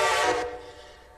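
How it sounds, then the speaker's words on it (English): A Reading 6 Berkshire steam locomotive from 1943 sounds its whistle in the Railroader train game: one loud, rich chime that holds for about half a second, then trails off into a fading echo. "Loving the whistle on that."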